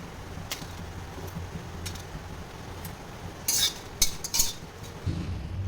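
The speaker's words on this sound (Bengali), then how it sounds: "তো এই মশলাটা আমি এখন কড়াইতে হালকা টেনে নেব।" Dry red chillies and whole spices are stirred in a dry kadai, with a spoon scraping and clinking against the metal in short, sharp bursts over a low background hiss.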